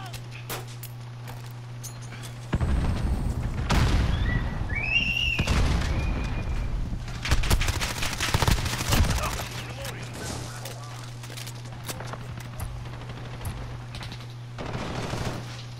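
Bursts of rapid automatic gunfire and scattered shots from Call of Duty: Modern Warfare rattle in clusters, with some lighter clicks and brief tonal effects, over a constant low electrical hum.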